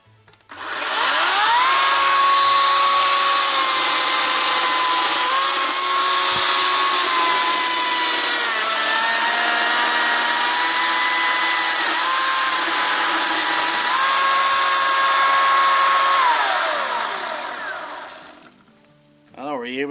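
A Ryobi 14-inch 40V cordless chainsaw runs with a loud, steady electric whine whose pitch dips and rises a few times over nearly twenty seconds, then cuts off abruptly during a chain brake demonstration.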